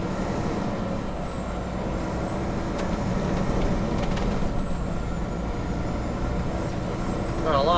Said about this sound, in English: Got a lot of trucks coming out of this Texaco station here.